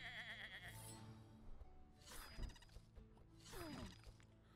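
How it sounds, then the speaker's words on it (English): Sheep bleating in a video game, three wavering, tremulous bleats in succession, close and clear against a layered game soundtrack with no talk. "Let's just crush this sheep."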